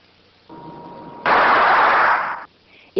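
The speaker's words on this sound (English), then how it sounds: "This brown compound is so sensitive when dry that just touching it with a feather causes an explosive decomposition" Dry brown nitrogen triiodide set off by a feather touch, a loud sustained crackling burst of explosive decomposition lasting about a second after a quieter hiss, followed by a short sharp pop.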